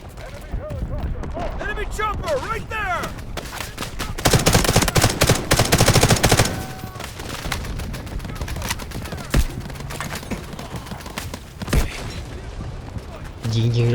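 M4A1 rifle fire in Delta Force: Hawk Ops, bursts of rapid shots rising to a heavy volley midway, with scattered single cracks and background game sounds under faint talk.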